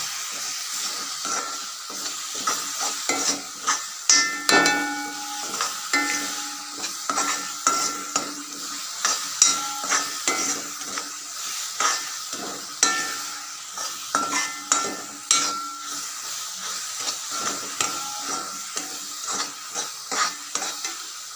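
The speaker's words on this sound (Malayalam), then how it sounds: "നല്ലപോലെ ഇളക്കി കൊടുക്കണം" Coconut burfi mixture stirred in a pan, repeated scraping strokes of a spoon against the metal in an irregular rhythm over a soft, steady sizzle, close and clear with no talk.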